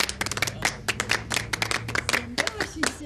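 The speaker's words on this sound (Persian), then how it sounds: "یک تشویق اول داشته باشیم." A small crowd claps for two young contestants at a neighbourhood competition, with close, uneven hand claps over a murmur of voices.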